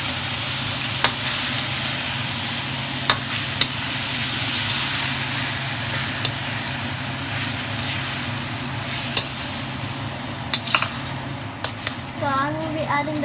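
Chow fun noodles stirred in a hot pan, a continuous loud sizzle with scattered sharp clicks and scrapes of the utensil against the pan, with a low steady hum of kitchen noise underneath.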